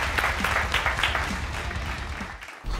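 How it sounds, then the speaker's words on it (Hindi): An audience claps loudly for entrepreneurs receiving awards at an innovation show, with dense applause that thins out near the end and stops briefly. "तो एक बार फिर से जोरदार तालियां आप सबके लिए"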